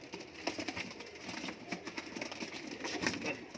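Punjabi Malwai pigeons coo softly in a quiet, faint background, with low repeated calls and light rustling and no voices.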